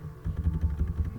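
Keys tapped on a computer keyboard while a calculator program is being written, a steady run of soft, close clicks with no speech.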